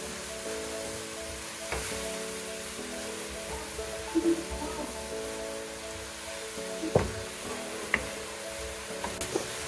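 Shredded cabbage fries in a hot pan for vegetable spring rolls, a steady close sizzle with occasional sharper pops and crackles as more cabbage is added.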